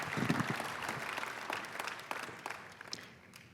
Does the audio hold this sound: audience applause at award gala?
yes